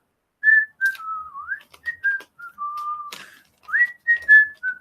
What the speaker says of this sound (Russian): Whistling. Свистит.